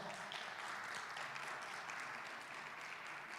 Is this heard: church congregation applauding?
yes